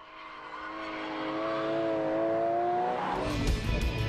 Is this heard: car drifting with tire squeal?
yes